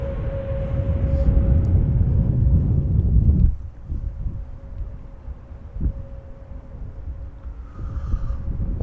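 A Boeing 737 departs runway 24 at Amsterdam Schiphol: a loud, steady low roar holds for about three seconds, then suddenly drops to a fainter rumble with wind buffeting and a thin tone.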